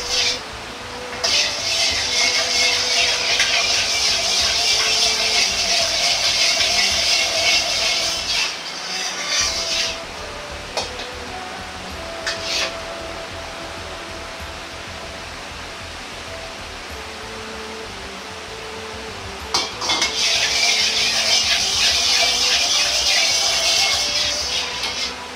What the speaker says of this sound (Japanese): 鍋が温まったら油を入れて慣らしていきます。